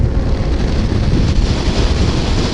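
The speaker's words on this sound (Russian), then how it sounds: "да, шум ветра" Strong, continuous wind roar buffets the microphone while riding a Yamaha XT660Z Tenere motorcycle, a loud, unbroken rushing noise with no voices.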